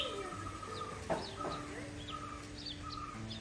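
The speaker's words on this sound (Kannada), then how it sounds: "ಎಷ್ಟು ಜೋರು ಕೂಗ್ತಾ ಉಂಟು ನೋಡಿ ಹಕ್ಕಿ" Several short bird chirps and calls ring out in an open outdoor space, spaced irregularly over a steady background hum.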